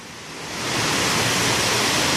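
A large fountain waterfall in Las Vegas pours down in a dense, steady rush of falling water that swells in the first half second, then holds loud and unbroken with no voices.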